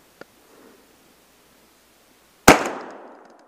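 A 20 gauge shotgun fires a single loud blast at a gray squirrel during a woodland small-game hunt, its report decaying over about a second after a faint earlier tick and quiet rustle.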